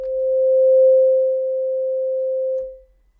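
A synthesizer plays a single pure, steady tone that swells gently, holds for over two seconds, then fades out smoothly over a long release into silence.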